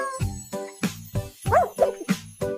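A dog barks repeatedly in short, sharp yips, about eight barks in a quick irregular rhythm, close and clear with no talking.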